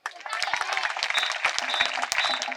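Audience clapping for the chief minister at a public talk about a residential school meal menu, a dense burst of applause that holds steady for a couple of seconds, with voices mixed into it.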